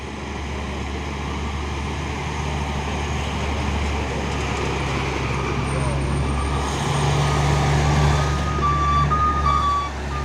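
A trailer truck carrying an isotank grinds up Bukit Kodok hill on a hot midday, its low engine drone steady and near, with repeated beeping tones and faint voices mixed in.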